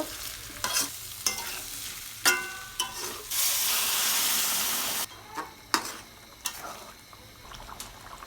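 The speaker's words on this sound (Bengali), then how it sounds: "আদা রসুনটা দিয়ে আমি একটু বেজে নেবো যাতে কাঁচা গন্ধটা না এবার গুঁড়া দিয়ে দিলাম ধনিয়া গুঁড়া জিরা গুঁড়া সবগুলো মশলা দিয়ে একটু ভালো করে নেড়ে চেড়ে নেব" Ginger, garlic, coriander powder and cumin powder fry in a pan for a beef tripe curry, with sharp spatula clatters and scrapes and a loud hissing sizzle surge in the middle.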